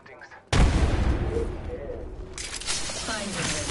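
In a first-person shooter, a sudden loud blast of gunfire and grenade explosions hits after a quiet start, followed by continuing shots and booms while players talk over the action.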